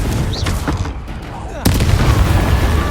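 Confringo blasting spell in Hogwarts Legacy going off with a sudden loud boom followed by sustained rumbling, after a voice shouts the spell name.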